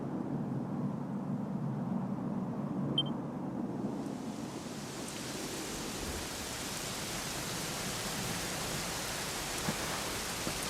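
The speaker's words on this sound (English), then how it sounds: "it was raining like this" Steady rain in a Dragon Quest XI cutscene, a continuous hiss that swells brighter and fuller partway through and then holds evenly, with no talking.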